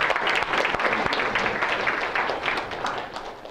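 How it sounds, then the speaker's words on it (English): A lecture hall audience gives a round of applause for course teaching assistants, many hands clapping in a dense burst that gradually softens and tapers off by the end. "So let's give these guys a round of applause already."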